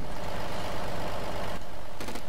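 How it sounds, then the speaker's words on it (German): Loud, steady rumble of a truck engine in the video game DayZ Epoch running continuously, with a slight shift near the end. "weil der LKW ganz schön laut ist"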